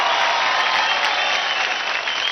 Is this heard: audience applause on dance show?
yes